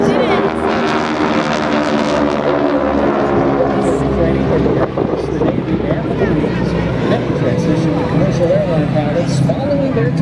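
Six Geico Skytypers propeller planes in Delta formation turn overhead at an air show, their engines forming a steady, loud, continuous drone with harmonic hum throughout and no talking.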